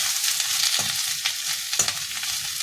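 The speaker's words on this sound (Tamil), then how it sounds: "வெங்காயத்தை போட்டுட்டு இது கொஞ்சம் நல்லா ப்ரௌன் கலர் வர வரையும் நம்ம ஃப்ரை பண்ணணும்" Chopped onions fry in a hot pan for tomato chutney, giving a steady, close, bright sizzle with a few soft stirring scrapes and no talking.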